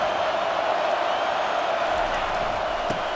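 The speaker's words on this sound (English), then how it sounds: "Decibels rising as the crowd gets behind this defense on 3rd down." A stadium crowd roars on third down in EA Sports College Football 25, a steady dense wall of loud cheering noise throughout with no letup.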